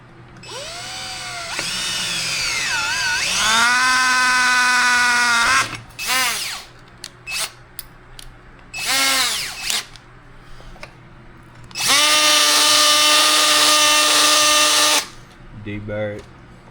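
A power drill bores a hole, its motor whining up to speed in long loud bursts with pauses between, near and dominant, with brief clatter and handling noises in the gaps.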